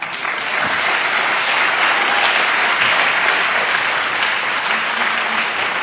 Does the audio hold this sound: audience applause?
yes